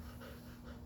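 A three-year-old dog pants in a steady, quick rhythm close by, a continuous breathy sound running alone through the short moment.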